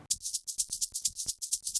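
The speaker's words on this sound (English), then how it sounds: "And shakers." Shaker percussion from a dance track, bright hissy shakes repeating in a steady quick rhythm with soft low thumps beneath, close and alone.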